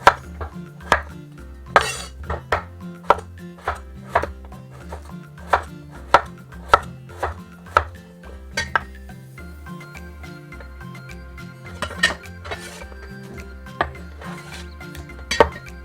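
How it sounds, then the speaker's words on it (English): A knife slices a whole potato into thick rounds on a cutting board, making a steady series of sharp, close chops with brief pauses and no talk. "I cut in a whole potato to half first, and I cut it slice"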